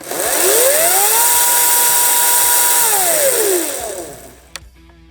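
A Ryobi 14-inch cordless chainsaw whines up in pitch, holds a steady high buzz, then winds back down, followed by a brief click and quiet hum.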